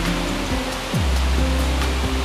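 Sarika Waterfall in Nakhon Nayok during the rainy season, a tall cascade that roars as a loud, dense, unbroken rush of falling water, close and steady, with a low tonal whine sweeping beneath it.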